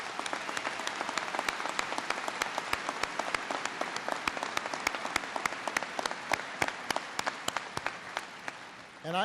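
Graduation ceremony audience for the Lake Area Tech class of 2017 claps in a steady, full round of applause, with sharp individual claps popping out of the wash, continuing for several seconds before a voice begins at the end.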